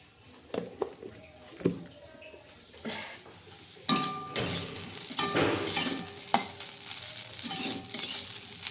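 Food sizzles and fries in a pan while a utensil stirs it, with scraping, clinks and bursts of sizzle swelling louder in the second half, heard close up with no talking.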